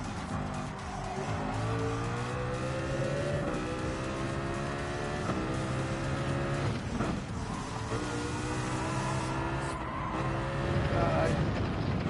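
A race car in the Gran Turismo 7 video game braking into a corner, its engine note dropping and climbing through gears with tire squeal, loud and continuous.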